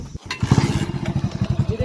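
A Hero Splendor motorcycle fitted with a bottle-modified exhaust starts and settles into a loud, close, rapid thumping idle with a steady pulsing rhythm.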